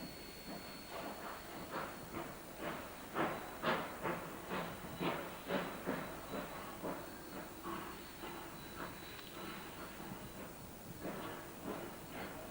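A steam-powered rotary snowplow train on the Cumbres and Toltec Railroad, pushed by a pair of Baldwin K36 2-8-2 locomotives, chuffs in loud rhythmic exhaust beats that build and then ease, over a steady steam hiss.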